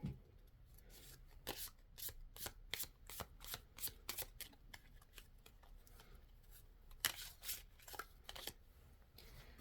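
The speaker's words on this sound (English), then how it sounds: "let's give those zodiac cards a little shuffle" Tarot cards being shuffled close up, a rapid run of crisp riffles and flicks repeating in bursts with brief pauses, no voices.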